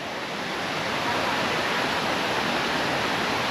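Steady rushing roar of a freshwater waterfall on Koh Kood island in Thailand, a dense broadband wash of falling water filling the whole clip at constant loudness with no other sounds.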